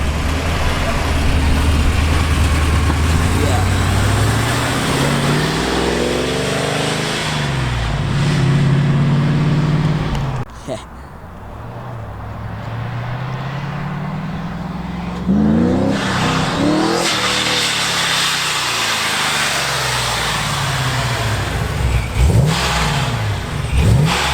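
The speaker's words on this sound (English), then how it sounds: "Hear that supercharger." A supercharged 800hp Pontiac WS6 Trans Am revs hard from inside the car, its engine roaring up and down through repeated surges with a supercharger whine, loud and close, while passengers talk over it.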